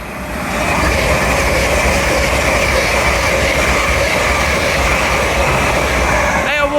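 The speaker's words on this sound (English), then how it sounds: "Passing through now will be a LNER Zoomer from York to London King's Cross" An LNER Zoomer passenger train from York to London King's Cross passes through Doncaster station on the East Coast Main Line, a loud continuous rumbling roar with a brief screech of wheels at the end.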